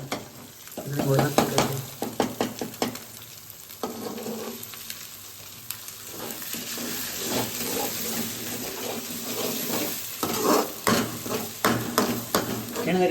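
A spoon stirring garam masala into egg rice frying in a pan, with repeated scraping strokes over a steady sizzle, close and fairly quiet, pausing briefly before the stirring picks up again.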